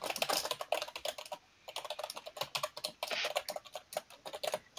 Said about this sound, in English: that's just his typing